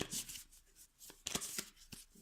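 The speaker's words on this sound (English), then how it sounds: "I'm not good at shuffling" A deck of playing cards is shuffled by hand, a few quick soft riffles and taps heard close and quiet with no talk.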